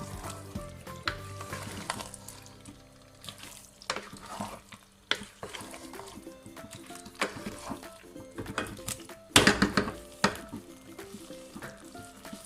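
Aloo baingan sabzi in gravy is stirred in a pan, with soft sizzling and scraping scrapes, and a few louder clatters, over background music.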